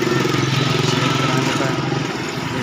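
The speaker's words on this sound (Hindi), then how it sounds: "ये सारी मोटरसाइकिल" Idling motorcycles in a group on a town street, a steady mid-pitched engine drone running throughout with a faint voice in the background.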